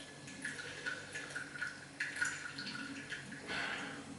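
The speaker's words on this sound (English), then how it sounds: "if I tap it on the top, it should stop the tea flowing" Rinse water streams and drips from a teapot during a Keemun tea brewing session, a thin steady trickle with small splashy patters that swells briefly near the end.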